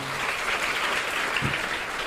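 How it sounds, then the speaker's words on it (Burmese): Applause from an audience at a talk, a steady wash of many hands clapping filling the whole moment at an even level, with no voices over it. "သမီးလေးကိုလက်ခုပ်တီးအားပေးပါ"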